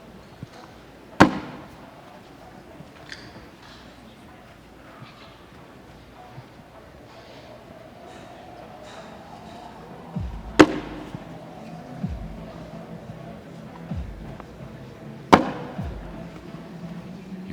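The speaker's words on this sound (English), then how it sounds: "Just hear every bag banging the board." Cornhole bags slam onto wooden boards inside an arena during a pro doubles world championship match, sharp isolated thuds spaced several seconds apart over a quiet crowd murmur.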